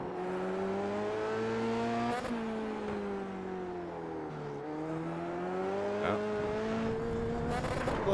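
A race car on a circuit during timed laps, its engine note rising and falling steadily through gear changes and corners, loud and continuous with only brief shifts in pitch.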